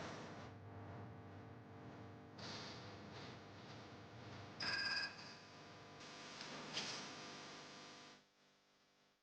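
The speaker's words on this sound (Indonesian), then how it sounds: "Si Bella sekarang kalau ditelepon nggak langsung ngangkat" A phone rings unanswered in an Indonesian TV drama scene, a steady electronic ringtone with bright repeating tones that runs for several seconds, then cuts off abruptly near the end.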